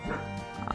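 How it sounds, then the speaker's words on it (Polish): A dog barks in the room, short yipping barks close to the mic over faint game sound from Farming Simulator 22. "Sorry za psa, ale jak zawsze musi się udzielić do odcinka."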